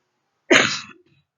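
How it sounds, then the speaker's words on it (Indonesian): One loud, abrupt cough close up, trailing off quickly into silence. "Intermezzo, batuk-batuk dikit."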